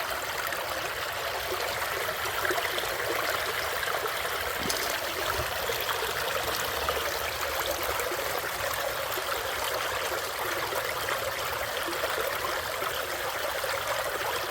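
Creek water flows in a steady, full rush, close by and unbroken, with no voices.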